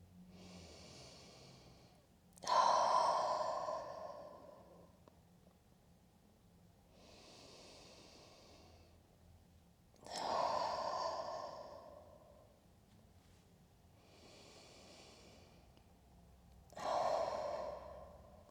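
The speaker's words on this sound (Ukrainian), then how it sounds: "І робимо три вдихи носом, а видих ротом ха." Yoga breathing, drawing air in through the nose and releasing it through the mouth with an audible "ha": three strong, close, breathy exhales spaced several seconds apart, with softer nasal inhales between them.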